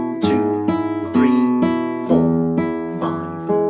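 Flamenco guitar playing an alegrías escobilla with thumb bass notes and index-finger strokes, a sequence of bright plucked notes and chords in a steady rhythm, close and alone.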